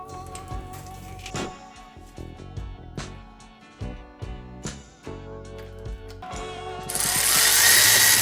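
A ratchet snugs down bolts on an LT1 engine during a 1949 Chevy 3100 swap, giving close, crisp bursts of clicking separated by short pauses, followed by a louder rushing noise at the end.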